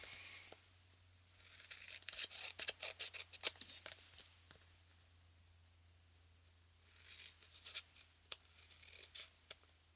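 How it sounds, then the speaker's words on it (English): Pencil scratching along a ruler while marking out paper for an envelope mini album, soft intermittent scritching strokes in two bursts with a quiet gap between, close and faint, no talk. "you can use a ruler to mark out if you don't trust yourself cutting at first."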